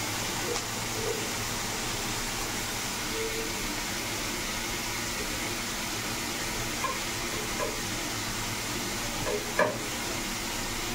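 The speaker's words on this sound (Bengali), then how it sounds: "টমেটো কাঁচা লঙ্কা পেঁয়াজ ভাজতে দিয়েছি" Tomato, green chili and onion frying in oil in a pan, a steady close sizzle running throughout with occasional stirring clinks.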